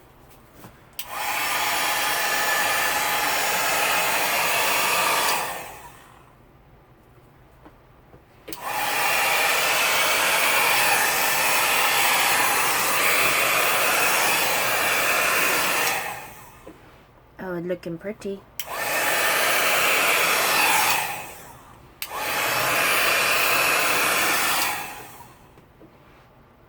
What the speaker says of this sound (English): And now the blow dryer part.